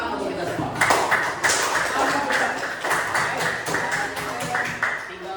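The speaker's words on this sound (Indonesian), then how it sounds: "Tepuk tangan untuk kita semua" A classroom group claps together in a brisk, fairly rhythmic burst of hand claps, near and moderately loud, with voices mixed in underneath.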